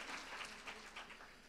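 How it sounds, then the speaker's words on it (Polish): Applause from an audience at a Polish parliamentary candidates' debate, a steady, soft patter of many hands clapping at some distance, with no voices over it. "Należą się gromkie brawa."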